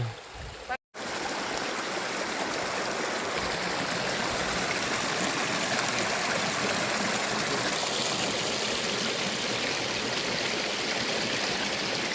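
A mountain river rushing steadily nearby on a hike between Mt. Lantik and Mt. Talamitam, a constant broadband hiss of flowing water after a brief bump at the start.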